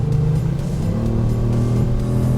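A 2018 Kia Stinger GT accelerating hard from a standstill toward 60 mph: a loud, close, deep engine roar whose pitch rises steadily through the gear, alone without any talk.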